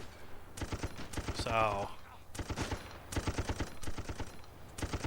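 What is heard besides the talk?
machine gun fire from a gun turret in a retro video game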